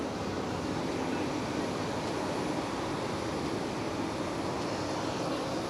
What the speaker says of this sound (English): Next cross runway departure, a Swiss 220 to Paris Charles de Gaulle.